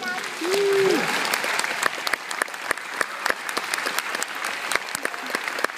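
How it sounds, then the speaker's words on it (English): Audience applause at a school Christmas concert for fourth graders, a dense, steady clapping from a crowd that carries through the whole stretch with sharp individual claps standing out, while a brief voice is heard near the start. "let's give her a nice round of applause"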